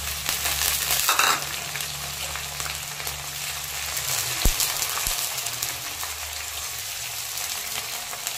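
Chopped onion and split green chillies fry in hot oil for a tempering, giving a continuous close crackling sizzle with a brief louder burst of stirring early and a couple of light utensil taps later.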